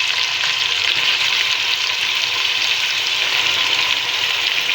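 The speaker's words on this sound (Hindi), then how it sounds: "बस गोश्त को इतना भूनना है कि बस इसका कलर चेंज हो जाए" Goat meat browning in a pan with onion and ginger-garlic paste for shaljam gosht, a steady close, loud sizzle and crackle throughout with occasional stirring, no voices.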